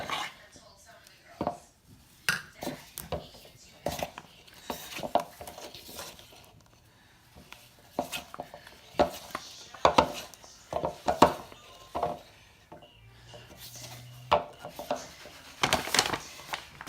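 Sourdough starter is stirred in a bowl with a utensil, making irregular taps, knocks and soft scraping bursts close by, with a voice talking in between.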